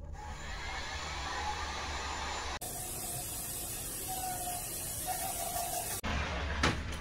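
Steady loud rush of a heat gun blowing hot air on the interior of a 1986 Del Rey Ghia, continuous with brief interruptions as it cuts off and restarts.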